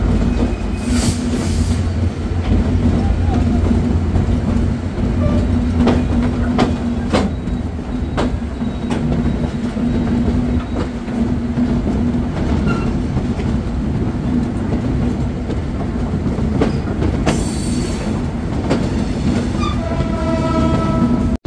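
A Benapole Express passenger train runs with a loud, constant rumble and rhythmic clatter of wheels on track, heard from inside, with blasts of the horn early on and again near the end.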